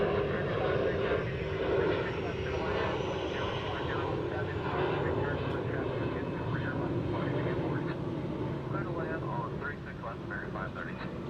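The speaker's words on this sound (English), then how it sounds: "The old Cessna Caravan, yeah." A Cessna Caravan at DFW airport hums with a continuous propeller-engine drone that holds steady throughout, fairly near, while people talk over it.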